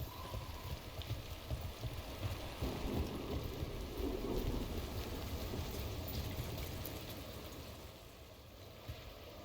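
Steady rain with rumbling thunder in the video game Dragon Age The Veilguard, a continuous wash of rainfall with deep low rolls swelling midway, no speech.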